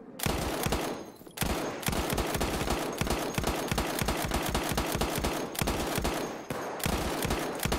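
Lewis gun firing in Battlefield 1, rapid sustained bursts of machine-gun fire close and loud, with brief pauses between long strings of shots.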